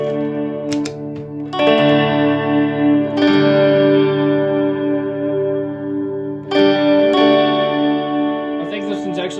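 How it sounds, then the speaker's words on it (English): An electric guitar plays sustained chords through a church-style TonePrint reverb pedal on a budget worship pedalboard, producing a big, wet wash where each strum rings out into a long, shimmering tail. "here's my church reverb"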